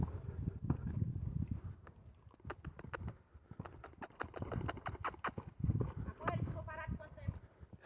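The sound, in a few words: horse stepping backward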